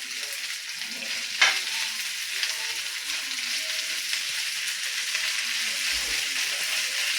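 Sabudana thalipeeth fries in ghee on a pan over a medium flame, a close, continuous crackling sizzle with one sharp pop early on and no voices.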